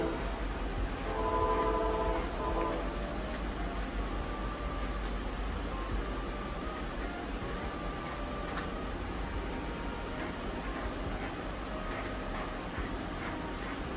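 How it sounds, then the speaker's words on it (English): A train rumbles past nearby, a low continuous roar with a brief horn-like tone early on, the noise holding steady as it goes by. "There's a train right next door."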